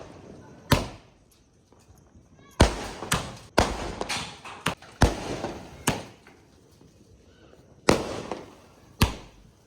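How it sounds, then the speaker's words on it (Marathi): Sky shot fireworks go off during Diwali in a string of sharp, loud bangs at irregular intervals, each followed by a crackling decay. "आता चला आपण स्काय शॉट लावून घेऊयात"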